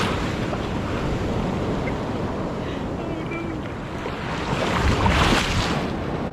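Ocean surf at Galveston rolling and breaking, a broad rushing wash with wind buffeting the microphone that swells louder near the end.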